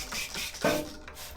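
Wet sanding a scooter body panel by hand with 600 grit sandpaper and soapy water, light pressure; soft, steady rasping strokes close by, with one slightly louder swipe midway.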